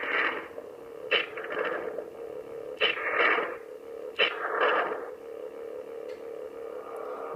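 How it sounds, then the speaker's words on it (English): Missile and super missile effects from Super Metroid, used as blaster sounds in a lightsaber sound font. Several loud, sharp bursts repeat at intervals, each leaving a buzzing, radio-like tail. "blaster sounds are actually the missile and super missiles"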